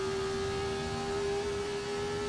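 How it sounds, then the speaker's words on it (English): Vintage Formula race car engine in the Assetto Corsa racing simulator, a steady high whining drone held at nearly constant revs, loud and continuous with no talk over it. "I'm using the vintage Formula car for the engine."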